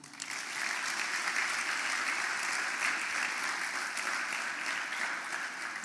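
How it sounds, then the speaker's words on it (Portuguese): A church congregation applauds steadily and evenly throughout, a full, continuous wash of clapping with no voices standing out. "Você pode dar um aplauso ao Senhor?"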